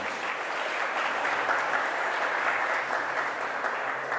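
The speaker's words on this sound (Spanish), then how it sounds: "Démosle un aplauso a la palabra de Dios" A church congregation clapping together, an even, sustained round of applause from many people that holds steady throughout with no talk on top.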